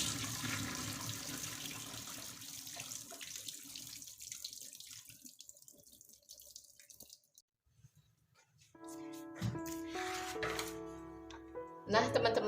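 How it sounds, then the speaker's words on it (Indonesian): Tap water runs and splashes while rice is washed in a kitchen, steady and close at first, then thinning to drips and trickles before a louder gush near the end. "Oke, kita cuci dulu berasnya."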